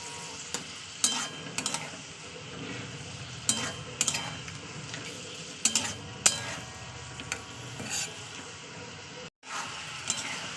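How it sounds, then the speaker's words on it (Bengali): Ginger garlic paste sautéed in a pan, a soft continuous sizzle broken by sharp clinks and scrapes of a metal spoon against the pan. "তো চলুন এটা এবার কষিয়ে নিই, একটু কষিয়ে নিচ্ছি যাতে আদা রসুনের গন্ধটা চলে যায়"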